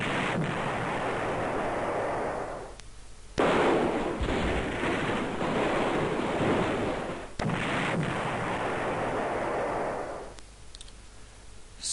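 Rocket defense fire in the Panzer General video game, Balkans campaign: long, loud rumbling barrages of explosive gunfire in several sustained bursts separated by brief pauses, with no talking.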